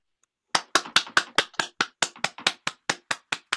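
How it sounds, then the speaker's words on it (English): A single person claps slowly and sharply, about fifteen distinct claps in a steady rhythm, close and clear, at an open mic poetry evening. "Big round of applause for Michael Sindler."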